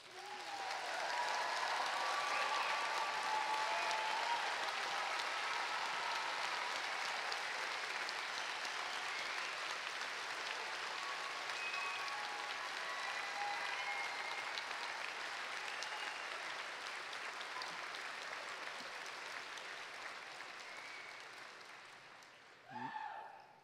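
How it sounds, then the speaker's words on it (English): A convocation ceremony audience applauds for the whole stretch, broad steady clapping that stays even, then fades slightly before a brief bump near the end. "Give yourself a nice hand of applause."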